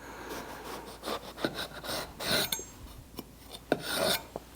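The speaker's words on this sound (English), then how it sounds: "what we're going to do is slice it into planks, nice thin planks" A knife slices a whole eggplant lengthwise into thin quarter-inch planks on a cutting board, giving repeated soft rasping, scraping strokes at close range with no talking.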